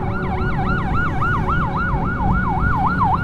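An ambulance siren wails in a regular rising and falling cycle, loud and close, over a low rumble of road traffic, with no voices.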